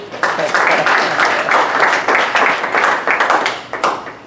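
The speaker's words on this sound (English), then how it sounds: "Big applause for them." A conference audience applauds, a dense burst of many hands clapping indoors, loud and steady for several seconds before thinning out, with a voice faintly underneath.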